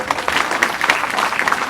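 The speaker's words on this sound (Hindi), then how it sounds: "ताली बजाइए।" Brief burst of dense clapping from a seated audience at a Hindu Bhagavat Katha religious gathering in a village, loud and continuous for under two seconds.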